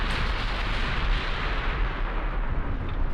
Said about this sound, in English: I took a torpedo hit?